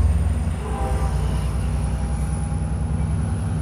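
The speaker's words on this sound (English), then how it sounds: "There it goes, folks. This train is going to Bakersfield." An Amtrak San Joaquin passenger train, hauled by a 2007 F59PHI locomotive, departs Oakland Jack London Square station with a steady, loud low rumble of engine and rolling wheels and a faint high whine above it.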